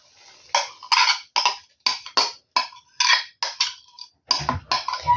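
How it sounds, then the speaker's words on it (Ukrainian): Spoon scraping and knocking against a bowl in a series of quick, separate strokes while a yeast mixture for pumpkin buns is stirred together, close and fairly loud with no talking. "Все разом перемішуємо."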